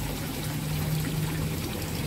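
Steady pouring of water carrying tilapia fingerlings into a tank, a continuous close splashing rush with no pauses and no talking.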